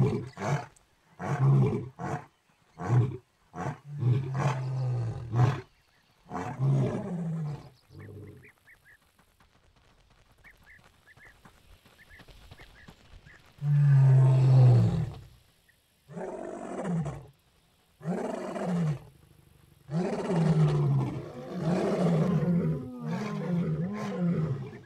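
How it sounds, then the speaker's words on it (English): Lion roars from a Roblox video game, several loud, deep bursts in a series broken by a quiet stretch, then more roars with growls to the end. "The roars of their grateful females can be heard."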